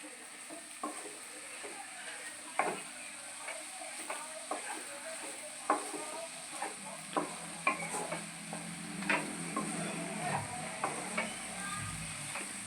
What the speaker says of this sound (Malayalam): ഇതിൻ്റെ എല്ലാം ഒരു പച്ചമണം മാറുന്ന വരെ ഒന്ന് ചെറുതായിട്ട് ഫ്രൈ ചെയ്ത് കൊടുക്കുക